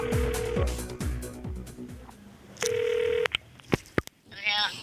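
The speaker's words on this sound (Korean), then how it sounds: "제작진은 도박 기술을 배우고 싶다는 학생과의 전화 연결을 시도했다" Telephone being dialed to connect a call: a rapid series of short keypad tones, then a sustained ringback tone and a few clicks, close and clear, ending in a faint voice-like burst.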